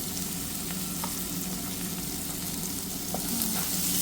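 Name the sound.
onions with turmeric frying in a pan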